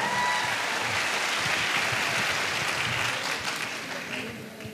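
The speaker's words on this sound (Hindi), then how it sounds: "मैं चाहूंगा संजीव सर के लिए एक बार जोरदार तालियां" Loud, dense applause from an audience at an Asclepius Wellness (AWPL) business event, a sustained wash of many hands clapping for Sanjeev sir that tapers off slightly toward the end.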